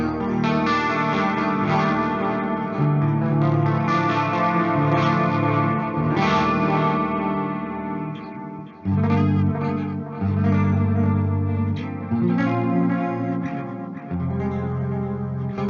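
A heavily distorted electric guitar through the distortion channel of a Mercuriall Ampbox U530 amp simulator plays thick, sustained chords and riffs, loud and continuous with a brief drop near the middle, no voices.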